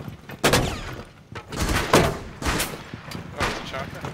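Repeated gunfire bursts from Rainbow Six Siege on the Coastline map, with shotgun blasts landing about every second in a fairly close, loud sequence, while game noise and faint voice fill in around them.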